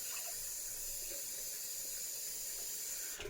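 Hot water pours steadily into a 1913 shaving mug, a continuous close hissing splash that runs evenly throughout without any voices.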